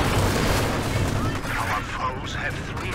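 Su-85 self-propelled gun and an anti-tank gun firing in a World War II strategy video game, with dense booming artillery and rumbling explosions blending into a continuous loud barrage.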